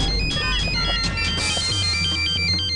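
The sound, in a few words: phone ringtone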